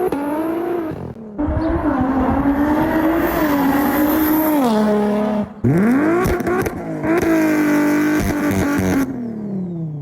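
Turbocharged BMW N55 engine with a Vargas turbo revs hard in loud, rising and falling pulls, broken by two short gaps, then climbs again near and alone.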